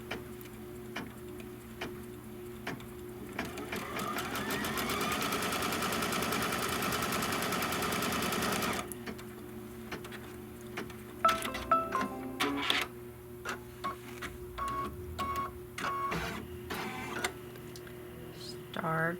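Domestic sewing or embroidery machine stitching a quilt seam, a steady fast mechanical whir running for several seconds, then stopping, followed by scattered clicks and handling noises with light talk.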